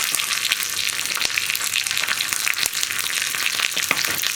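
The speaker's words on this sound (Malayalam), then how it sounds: "1 പിടി കറിവേപ്പില, ഇനി നമ്മുടെ കറിവേപ്പിലയും കുക്കായി കഴിയുമ്പോൾ" Curry leaves sizzle and crackle steadily in hot oil for Kerala-style rasakalan, a continuous bright frying hiss with occasional sharp pops, close and fairly loud, with no voices.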